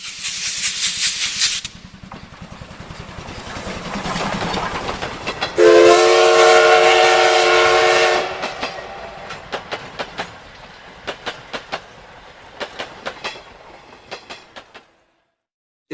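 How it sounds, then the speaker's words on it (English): An Amtrak passenger train rumbles past, its horn blaring loud and close for a couple of seconds in the middle, followed by rhythmic clickety-clack of wheels over rail joints as the cars roll by and fade out. "The train was coming, buddy. The Amtrak was coming."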